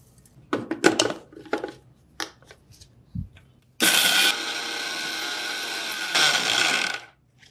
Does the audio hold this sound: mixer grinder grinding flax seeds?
yes